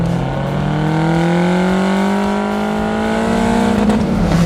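A powerful 350-horsepower Lotus Esprit V8 engine roars close by, its pitch climbing smoothly and steadily as it accelerates hard, loud and continuous without any talking.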